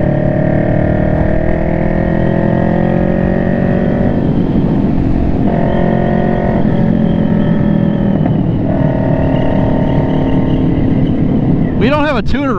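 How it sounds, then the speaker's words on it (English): A Kawasaki Vulcan 650 motorcycle fitted with a Two Brothers full exhaust and silencers drones loudly and steadily, rising and falling slightly in pitch as it cruises, with a brief squeal near the end. "anybody out there with a 650 Vulcan, the Two Brothers full exhaust with the silencers is definitely the way to go"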